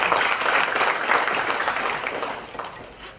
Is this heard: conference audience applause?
yes